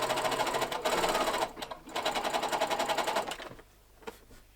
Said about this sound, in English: after hours of sewing and a couple of bobbins of thread, I have finally sewn around all my pattern pieces